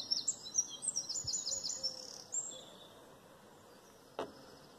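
A songbird in a yard delivers quick, high chirping phrases for a couple of seconds before falling silent, followed later by a single sharp knock.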